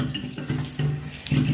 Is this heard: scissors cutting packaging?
no